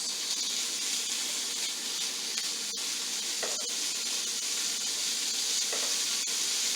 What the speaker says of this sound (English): We've got a pretty good sizzle going on here.